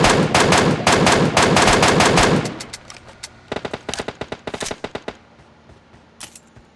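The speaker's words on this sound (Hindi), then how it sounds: "और गाइस अब मैं बगल पे करके थोड़े फायर देता हूँ।" Gunfire in the video game PUBG: a loud, dense stretch of rapid automatic fire breaks off into lighter, spaced-out shots and short bursts, with no talk.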